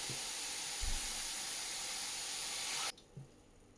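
Water is poured into a hot pan with salt and vegetables for couscous, giving a loud, steady, close hiss of steam and splashing. The hiss cuts off abruptly, leaving a quiet bubbling murmur.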